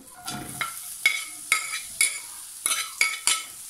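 Onions frying in oil in a hot pan, with a soft sizzle broken by a series of sharp, evenly spaced stirring scrapes and taps of a utensil against the pan, close and without voices.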